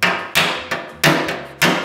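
A slightly domed hammer knocks on the thin sheet-metal floor panel of a Vespa scooter near the spot welds, five sharp, loud metallic raps at uneven intervals, each ringing briefly before fading, with no voices.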